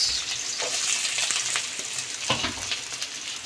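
Green chillies and then onions frying in hot oil, a steady close crackling sizzle with brief stirring bursts, heard alone.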